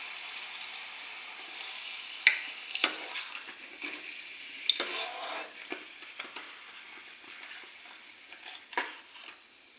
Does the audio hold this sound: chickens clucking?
no